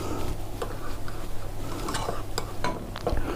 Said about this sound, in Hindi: तो अभी जो है मैं तैयार करने लगा हूँ जी टमाटर की चटनी, और इसको थोड़ा मिक्स